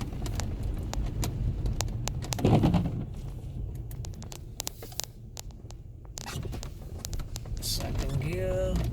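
A 2003 Jaguar S-Type engine hums steadily through gear changes, revs dipping and rising as it shifts, with road noise and clicks inside the cabin.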